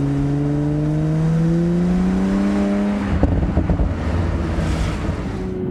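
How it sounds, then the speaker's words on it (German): 2020 Toyota GR Supra with 340 PS in sport mode: a steady engine drone rises in pitch for about three seconds, then gives way to a burst of crackling exhaust pops and burble mixed with wind noise. "Man hat auch ein leichtes so Plöppeln und Pöppeln aus dem Auspuff"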